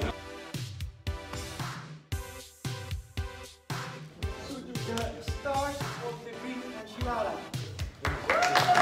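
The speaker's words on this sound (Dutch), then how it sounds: "Applaus." Applause for a coding-contest prize winner: a scattered run of hand claps in short bursts around the room, with talking and music underneath.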